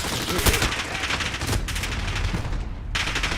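Shotgun fire in the video game Modern Warfare, loud booming blasts over dense game noise, with a short gap before a final shot.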